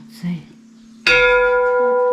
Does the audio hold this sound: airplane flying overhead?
no